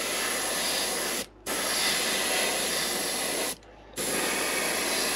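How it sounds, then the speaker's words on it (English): Airbrush hissing paint over the back of a swimbait lure in two close, steady bursts of spray, each briefly cut off before resuming, with a constant high whine throughout. "I'm just gonna spray a little over the back."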